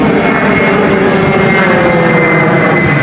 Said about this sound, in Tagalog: tingnan natin yung aeroplano